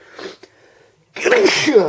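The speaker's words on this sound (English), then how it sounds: "Gonna sneeze." A single sharp sneeze bursts out after a brief quiet pause, loud and close, following a few soft vocal sounds.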